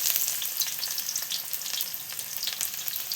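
Onions sizzle and crackle steadily in hot oil in a pan, the start of a Bengali shaak bhaji, a continuous close frying hiss with no voices.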